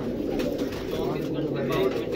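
Pigeons coo softly and repeatedly, with people talking over them throughout.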